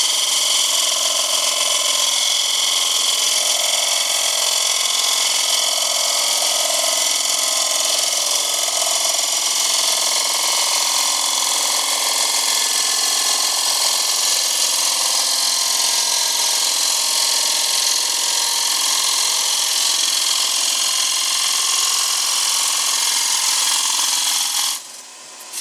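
A wood lathe spins a dry, rough-turned bowl blank while a tool cuts inside the bowl, giving a loud, steady whirring hiss that holds for about 25 seconds before it cuts off abruptly at the end.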